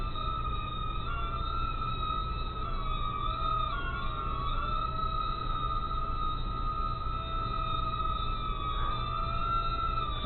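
Estes Proto X mini quadcopter drone flying indoors, giving a steady high-pitched buzzing whine with a shifting tone as the motors speed up and slow down, continuous and fairly close throughout, with no talking.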